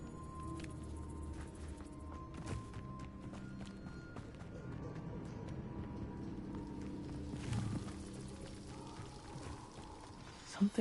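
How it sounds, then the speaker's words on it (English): A waterfall in the video game Hogwarts Legacy rushes in a steady, moderately faint wash of falling water, with a few soft game sounds over it. "The waterfall."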